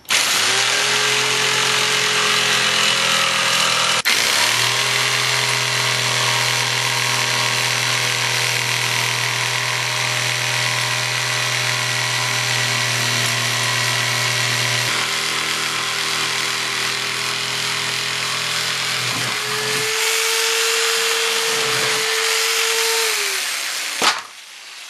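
A power saw cuts through two panels in one long steady pass, its motor whining loudly with a droning hum beneath, a brief pitch change near the start and again before it winds down and stops.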